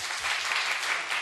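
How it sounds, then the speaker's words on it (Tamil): A short, dense patter of audience clapping at a public meeting of folk artists, steady and moderately loud for just over a second. "அவர்களெல்லாம் இன்னொரு தடவை கைத்தட்டுங்க."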